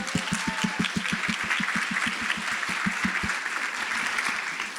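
An audience applauds an award recipient at a marine health summit ceremony, sustained dense clapping from a crowd that carries evenly for several seconds, a few louder nearby claps standing out before it thins slightly.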